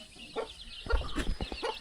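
Free-ranging chickens in a rural Lao village cluck in short, close bursts, several birds overlapping in quick irregular calls with no talk.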